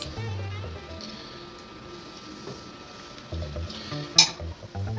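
Butter melting in a preheated frying pan, a faint steady sizzle with a low hum in the background and a brief metallic clink near the end.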